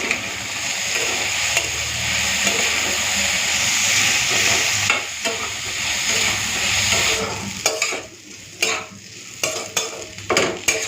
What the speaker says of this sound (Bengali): তো আলু আর কাঁকরোল একসাথে লাল করে ভেজে নিয়েছি